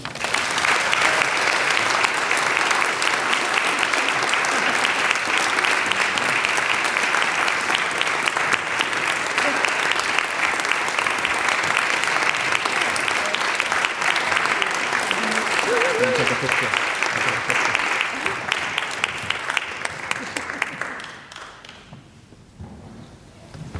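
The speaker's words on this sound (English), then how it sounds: "Please give a warm and heartfelt round of applause to our 2026 Flag Racer Award recipients, David Bosquin and Cameron Porter" Warm, sustained applause fills the space at a Quincy Pride flag unveiling ceremony for the 2026 Flag Racer Award recipients, a steady dense clatter of many hands that fades out near the end.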